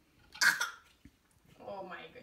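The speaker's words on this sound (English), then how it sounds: "Oh my goodness, are we coughing?" A baby coughs once in a short, rough burst close by, followed after a pause by soft infant vocalizing.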